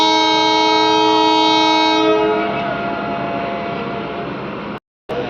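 A Raichur-Guntakal DEMU passenger train sounds a long, loud, steady horn that cuts off after about two seconds, leaving a loud continuous running rumble with a brief dropout near the end.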